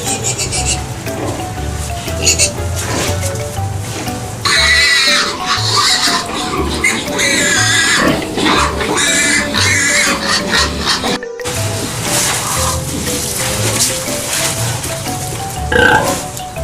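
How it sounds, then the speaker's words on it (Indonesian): Farm pig grunting and oinking repeatedly, loud and close, over a busy layer of background sound with music-like tones. "Babi."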